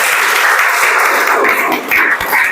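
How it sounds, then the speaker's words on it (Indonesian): A classroom group claps together in a dense, even burst of applause lasting a couple of seconds, loud and close. "Tepuk tangan lagi."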